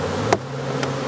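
Honey bees give a low, steady buzz close by, with a couple of brief higher flutters over the drone, as they are shaken into a corner during mite testing.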